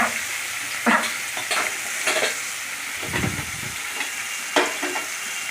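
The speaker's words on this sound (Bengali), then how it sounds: "পেস্টটা দিয়ে দিলাম, দিয়ে ভালো করে তেলের সঙ্গে কষিয়ে নিলাম মশলাটাকে" Ginger and green and red chilli paste frying in hot oil with spices, a continuous sizzle and hiss broken by several scraping stirs of a spoon through the pan, nearby and with no voices.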